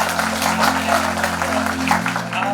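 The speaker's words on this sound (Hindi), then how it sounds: "आपके लिए जोरदार तालियां" Audience applause for a speaker at a Hindi-language talk at a career college, steady and dense clapping filling the room over a low sustained hum.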